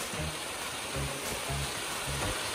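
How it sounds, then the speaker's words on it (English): Steady broadband rush of a waterfall gushing beside a road in Alaska, heard from a vehicle with a low, rhythmic rumble pulsing underneath. "Look at our waterfall."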